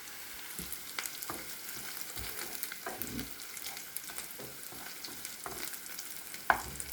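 Onions and peppers fry steadily in a pan, giving a continuous close hiss with occasional stirring scrapes and clicks, and no one talks.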